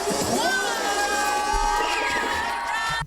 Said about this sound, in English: A lot of people cheer for this guy.